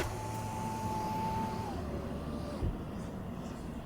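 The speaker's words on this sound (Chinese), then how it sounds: "外面的声音其实是那个风力发电机的声音" A wind turbine outside gives a low, continuous whooshing drone through one open window of a Nio ES8 car, mixed with a faint steady tone and ambient outdoor noise.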